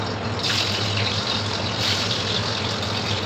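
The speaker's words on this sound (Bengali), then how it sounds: "তেল গরম হয়ে গেছে, ডিমগুলো দিয়ে দিব।" Boiled eggs fry in hot oil, giving a steady, moderately loud sizzle and crackle throughout with no talking.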